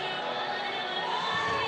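A full-capacity stadium crowd at a Savannah Bananas vs Party Animals baseball game in California gives a standing ovation: a steady, moderately loud wash of cheering and applause that holds throughout.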